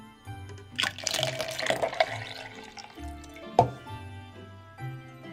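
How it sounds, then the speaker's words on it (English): Milk, 400 milliliters, poured into a sweet baked macaroni dessert mix flavored with vanilla, giving a wet, splashing pour that swells and fades over several seconds, with a sharp knock partway through. "You need to add 400 milliliters of milk."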